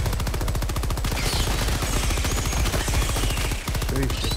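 Rapid automatic gunfire from a weapon in Helldivers 2, a fast, loud, evenly spaced stream of shots that runs almost nonstop with a brief break near the end.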